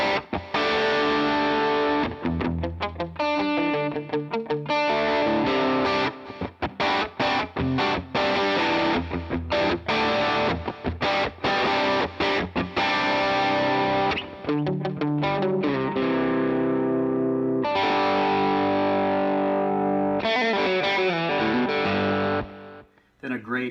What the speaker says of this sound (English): with a little distortion, this middle pickup actually gives you a really cool tone